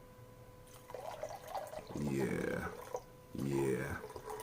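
Mango ginger drink pours from a bottle with a soft liquid splash, close by and mostly under a person's talking.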